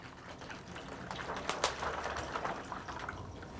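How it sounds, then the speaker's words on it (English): Water is poured into a homemade bag of house wrap, giving a soft, continuous splashing and trickling that swells slightly midway, fairly quiet and close, with no talking. "I'm going to fill it with water."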